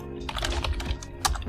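Fingers tap a computer keyboard while a Java command is entered on a Windows machine, a quick run of close, light key clicks with one sharper keystroke near the end.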